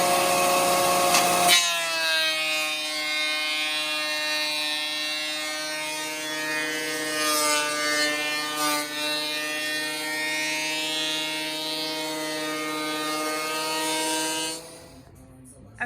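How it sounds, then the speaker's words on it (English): A thickness planer whines loudly and steadily, a droning motor with a grinding edge as reclaimed fence boards are fed through, running for several seconds before stopping. "I have all my boards run through the planer."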